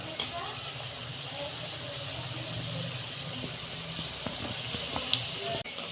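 Gaja sweets deep-frying in hot oil in a home kitchen, a steady soft sizzle and bubbling throughout with occasional small clicks and pops, fairly quiet and continuous.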